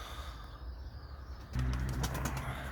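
Pigeons overhead in snowy weather: a soft flutter of wings and faint birdsong, then a louder burst of wingbeats and low cooing against steady outdoor background noise.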